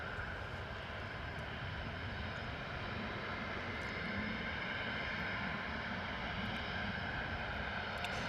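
An Airbus A320 landing at London Stansted after a flight from Tel Aviv, a steady broadband jet roar holding at moderate, fairly distant level throughout with no voices.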